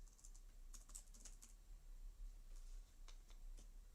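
Faint clicks of typing on a computer keyboard come in short irregular bursts over a quiet low hum.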